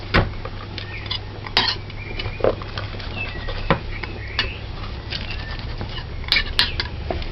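Stewed sardine being mashed on a plate, fork scraping and tapping against the plate in a few sharp, irregular clicks over a low steady background hum, close by with no voices.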